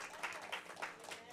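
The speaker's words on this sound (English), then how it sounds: "Can you give God a round of applause in the house of the Lord?" A brief stretch of church congregation applause, many hands clapping steadily, heard at moderate distance.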